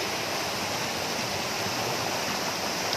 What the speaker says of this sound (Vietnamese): Nhìn thác nước rất là cao luôn này.